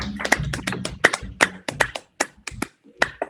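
Several people clap into open microphones during an online conference, producing sparse, uneven hand claps that come as distinct sharp hits rather than a dense wash.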